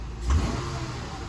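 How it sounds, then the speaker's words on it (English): A 1999 Acura TL engine gives one short, quick rev, then settles back to a steady low idle. "So if Colin gives it a little rev,"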